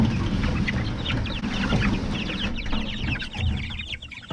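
Chickens in a small A-frame chicken tractor cluck and chatter in quick overlapping bursts, close by, over a low rumbling background as the coop is pulled along.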